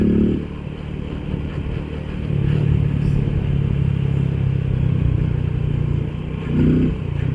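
A motorcycle engine heard from the rider's seat at easy cruising speed while wearing a helmet: a low, steady mechanical drone that swells slightly midway, partly mixed with wind rush and faint rattles.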